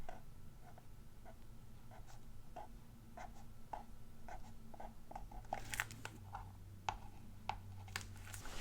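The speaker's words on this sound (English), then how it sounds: "Right here I'm going to write pretty." A pen writes in a creative journal, giving a quiet, steady run of short scratchy strokes close up, with a few sharper taps near the end.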